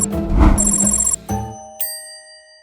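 An electronic phone ringtone plays a bright melodic ring, then a single chime sounds and slowly rings out into silence.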